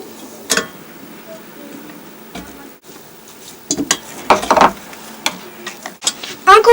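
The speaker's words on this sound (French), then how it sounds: "Lorsque la semoule a un peu refroidi, ajoutez-y les jaunes d'œufs et mélangez bien" Egg yolks being stirred into cooled semolina in a bowl, giving scraping, tapping spoon strokes in irregular bursts, moderately close, with brief louder clinks toward the end.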